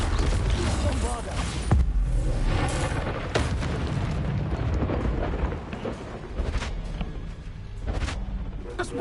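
Heavy magical explosions from a Bombarda spell in the Hogwarts Legacy video game: dense, loud booming blasts with sharp impacts over a constant rumbling combat din, lasting throughout.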